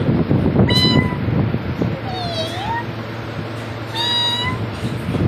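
Several clear, drawn-out cat meows sound close by against steady background noise, one early, a softer rising one in the middle and another near the end, with no talking.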